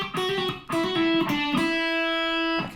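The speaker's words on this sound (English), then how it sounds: "that's going to sound like this with the hammer-ons and pull-offs before it" Distorted electric guitar plays a solo phrase: quick legato notes joined by hammer-ons and pull-offs, then a sustained ringing note, loud and close with no talking.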